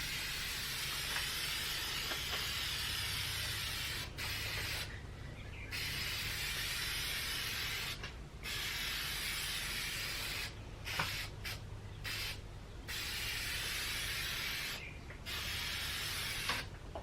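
Rust-Oleum Triple Thick Crystal Clear high-luster lacquer hissing from an aerosol spray can onto a wooden desk during restoration, in several long steady bursts separated by brief pauses.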